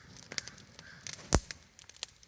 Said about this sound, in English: Sounds like birds are having fun.